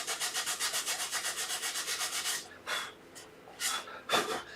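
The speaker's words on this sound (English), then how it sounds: "So here, just sand all your pencil marks" Rhythmic back-and-forth scratching of sandpaper on wood, sanding off pencil marks while making a dovetailed box, fast regular strokes for a couple of seconds, then a few slower, separate rubs.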